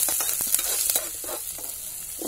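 Garlic, green chili and chopped onion frying in a pan for semolina upma, a steady close sizzle with a few stirring scrapes and no talk.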